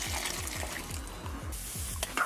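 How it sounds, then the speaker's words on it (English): Water pours into a pan of curried hassar fish, a close, gurgling splash with a steady burbling rhythm and a few sharper clinks near the end. "I'm going to add a little more water to cover the fish."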